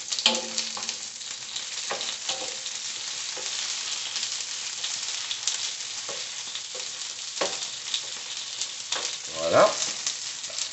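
Paella ingredients fry in a pan with a steady, close sizzle and crackle throughout, broken by a few brief clinks and a short louder stir near the end.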